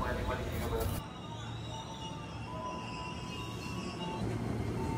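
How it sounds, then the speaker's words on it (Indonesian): A KRL commuter train rumbles into a station bound for Jatinegara with a broad, steady roar and a faint squeal of wheels, heard from the platform at moderate distance without talk. "Nah kan ini udah dateng KRL kita menuju Jatinegara."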